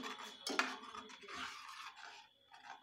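Shahi paneer gravy with strained puree being stirred in a pan, with soft scraping and clinks of a metal spoon against the pan, one sharper clink near the start, fairly quiet throughout.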